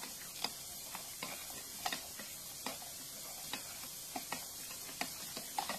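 Beef bouillon being stirred into a spaghetti meat sauce in a pot, quiet sharp spoon clicks and taps at irregular intervals over a faint simmer, no speech.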